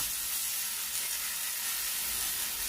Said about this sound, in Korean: 후라이팬에 식용유 두르고 예열되면 한 국자씩 넣어주세요.